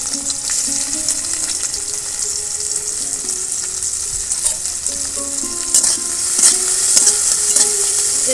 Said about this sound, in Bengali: কড়াই তেলটা গরম হয়ে গেছে, এবার মাছগুলো, চিংড়ি মাছগুলো সব দিয়ে দেবো কড়াইতে।